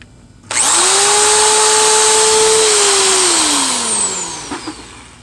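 A power tool fitted with a wire brush spins up sharply to cleaning a pan from a Murray 17.5 hp lawn tractor, running loud and close with a steady whine before winding down near the end.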